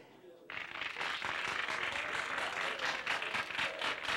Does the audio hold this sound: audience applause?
yes